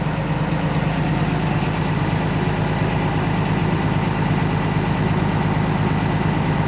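A bus diesel engine idles just after a cold start, a loud, steady low rumble with constant throbbing that holds evenly throughout with no talk.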